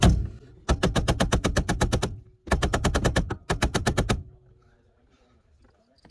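Rapid bursts of sharp metallic impacts from an air hammer striking a stuck ignition lock assembly on a 2008 Volkswagen Jetta, heard as two long, fast, loud rattling runs with a brief gap between them, followed by quieter background.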